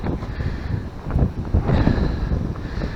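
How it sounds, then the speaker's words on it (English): Gusty wind buffets a camera microphone mounted on a Giant ebike on a windy day, a steady low rumbling roar with fluctuating bursts, loud and close, without speech. "it's quite windy today."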